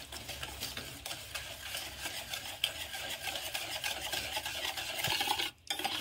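A whisk beats curd into eggless chocolate cake batter in a bowl, making a rapid, steady rhythmic swishing and ticking close by, with a brief pause near the end.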